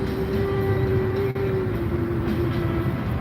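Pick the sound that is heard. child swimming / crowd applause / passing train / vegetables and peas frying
passing train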